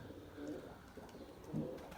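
A pigeon named Gökbey, a white Turkish show pigeon, gives soft low coos, two brief calls about a second apart, faint and close in a quiet outdoor setting.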